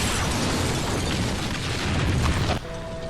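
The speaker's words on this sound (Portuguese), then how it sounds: "teve seu platô em uma explosão de bazuca ao melhor estilo Daryl" A loud bazooka explosion booms from a Walking Dead episode, a dense roaring blast that fills the scene before cutting abruptly into quieter sound with a faint tone.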